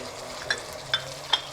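Garlic and ginger with sliced tomatoes frying in a pan, a steady soft sizzle with three light clicks of a spoon stirring, close and without talk.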